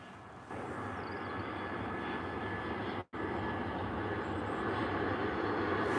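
An EasyJet Airbus A320 jet airliner at Liverpool Airport produces a steady distant engine roar with a faint whining tone, briefly cut by a short dropout midway, with no speech.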